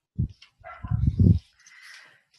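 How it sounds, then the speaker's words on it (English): A single dog barks indoors in a short burst of several close, loud woofs, followed by quieter yips and whimpers, with no talking. "My dog is barking."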